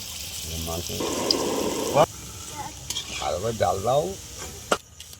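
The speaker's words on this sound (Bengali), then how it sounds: "আমরা ছোট ছোট করে পকোড়াগুলো ভেজে নিচ্ছি।" Small mung dal pakoras deep frying in hot oil in a kadai over a clay stove, a bubbling sizzle with stirring clatter and a sharp knock, while a voice talks over part of it.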